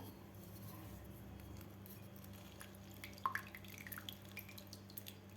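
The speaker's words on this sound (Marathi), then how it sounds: "अर्धा लिंबू घेतलेला आहे मी, त्याचा रस घालायचा आपल्याला." Juice from half a lemon drips into a sweet sattu drink as faint, scattered drips and small splashes, starting partway through over a quiet background hum.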